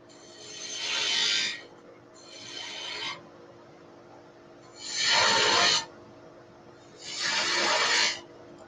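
A spindle gouge cuts a piece of wood spinning on a lathe, sounding as four close, raspy scraping passes, two shorter ones followed by two louder, fuller ones, separated by brief pauses with no talking.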